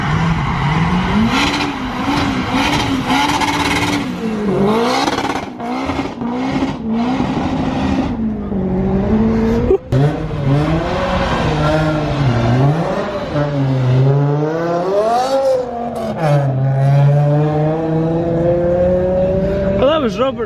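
K20 turbo Honda Integra race car driving at a wet raceway, engine loud and close, revving up and down through gear changes with rising and falling pitch, a voice talking over it.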